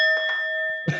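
A single bell ding with a sustained, steady ringing tone that holds through the moment, heard fairly close with faint rustling beneath and a small knock at the end.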